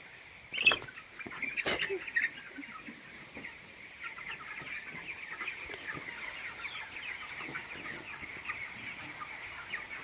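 Chickens cluck and chatter steadily nearby, with a couple of sharper, louder calls early on, over faint outdoor background.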